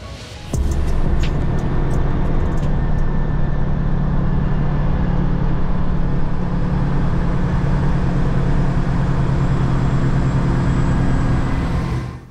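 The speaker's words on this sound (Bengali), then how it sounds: "বাসটি ফ্রন্ট ইঞ্জিন হওয়ায় সামনের দিকে কিছুটা ইঞ্জিন নয়েজ রয়েছে" A front-engine Ena bus on the road from Dhaka to Khulna drones with a loud, steady engine rumble that runs unbroken for the whole stretch, with no talk over it.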